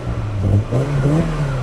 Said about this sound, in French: Mais c'est un moteur essence